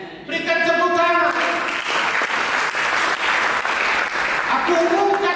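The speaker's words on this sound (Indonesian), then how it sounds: "Berikan tepuk tangan." A church congregation claps during a sermon, a dense and sustained burst of applause that rises suddenly and carries on loudly. A preacher's voice is heard at the start and returns near the end.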